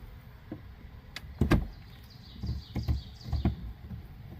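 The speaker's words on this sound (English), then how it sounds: "We're just going to have John turn the steering wheel and let you watch." Plastic creaks and clicks from the steering wheel of a Grave Digger Power Wheels ride-on toy being turned back and forth, giving a series of short, close scraping bursts with no talking.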